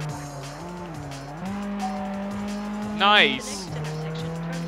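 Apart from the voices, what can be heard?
upgraded Aston Martin car racing in video game Test Drive Unlimited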